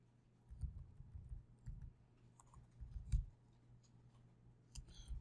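Quiet keystrokes on a computer keyboard, scattered soft clicks in short irregular bursts, faint and close with low background hum.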